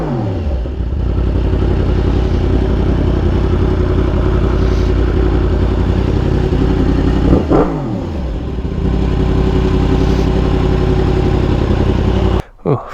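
A Lamborghini Huracan's engine runs as a loud, steady drone with a brief rising rev in the middle, followed by an abrupt cutoff near the end.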